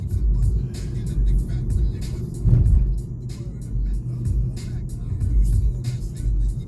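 A car drives through a busy West Kensington street in Philadelphia, its steady low engine rumble close and continuous, with a brief louder surge midway.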